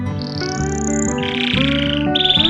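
A canary sings a bright, continuous run of trills and warbling notes that step between pitches, heard up close over a steady musical background.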